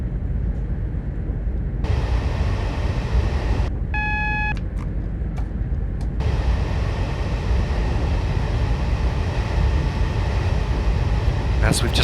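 A Class 221 diesel train from Train Simulator 2015 runs with a loud, constant rumbling drone, interrupted near the start by a brief electronic warning beep over the steady roar.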